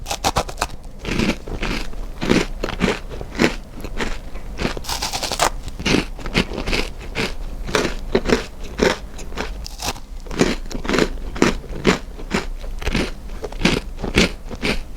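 Crunchy strawberry bakery treats from a bakery's new menu are bitten and chewed right at the mic, a steady series of crisp crackling crunches and chews with no talking.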